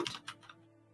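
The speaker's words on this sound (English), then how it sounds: "At some point, I'm just going to have to get a quieter keyboard" Keys clatter on a loud computer keyboard in a few quick, close clicks that trail off into quiet room hum.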